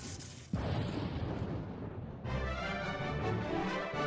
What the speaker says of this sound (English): I don't remember seeing the fireworks in the other ones.